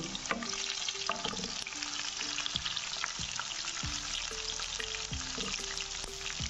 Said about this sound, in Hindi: इसके अंदर आधे टीस्पून मैं ज़ीरा डाल रहा हूँ, सफ़ेद ज़ीरा है।